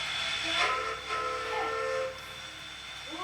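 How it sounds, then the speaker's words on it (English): A train's steam whistle sounds two toots in succession, a bright hissing tone, with a fainter tail of steam afterward. "The engineer toots the whistle twice"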